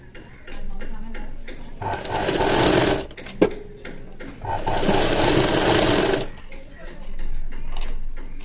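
Sewing machine stitching an L-shaped seam of cloth for a square neck with piping, two close bursts of rapid mechanical whirring separated by a short pause, with someone speaking between them.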